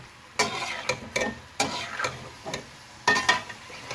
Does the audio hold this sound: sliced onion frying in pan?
yes